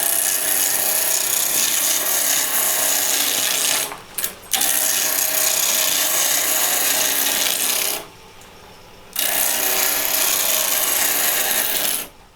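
A Banksia pod spins on a wood lathe while a tenon is cut on its end, making a loud, continuous rough scraping and rasping that breaks off twice in short pauses, with no talking.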